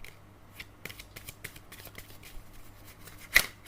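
Tarot cards being handled and shuffled in a quiet indoor setting: soft, scattered papery flicks and riffles across the clip, with one sharper, louder snap near the end and no talking.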